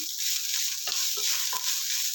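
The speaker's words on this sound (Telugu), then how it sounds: "ఈ కలర్ రావాలండి ఇలా కొంచెం లైట్గా బ్రౌన్ వస్తుంది ఆకులన్నీ బాగా వేగిపోయి" Mint leaves frying to light brown in a pan, a steady close hiss of oil with a few soft stirring scrapes over about two seconds.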